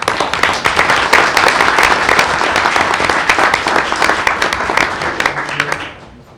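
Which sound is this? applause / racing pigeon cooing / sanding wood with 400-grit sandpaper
applause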